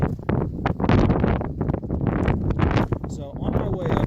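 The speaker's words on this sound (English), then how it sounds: "I apologize for the wind." Desert wind buffeting the microphone near an old mine's surface vein, loud, constant rumbling gusts that roar throughout while someone talks over them.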